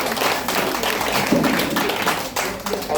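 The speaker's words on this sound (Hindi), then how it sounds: "सभी के लिए दिल से ताली बजाएंगे सभी लोग।" Audience members at a DXN meeting break into dense, continuous applause, many hands clapping together in a roomy crowd wash that stays loud throughout.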